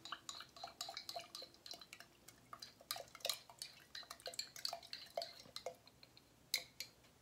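Red, blue and black slime mixed with glue and paint: quiet, close, wet squelching and sticky clicks in an uneven, continuous rhythm, with occasional light taps against a container.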